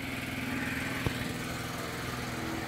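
An old Tillman tractor engine runs at a steady idle at a tractor show, a close, continuous buzzing drone with an even pulse and one small knock partway through.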